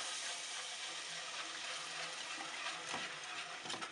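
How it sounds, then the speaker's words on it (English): Milk is poured into a sauce in the kitchen while it is whisked, making a steady, soft liquid hiss and sizzle with faint stirring scrapes, close and without talk. "I'm going to gently pour in about 1 cup of milk"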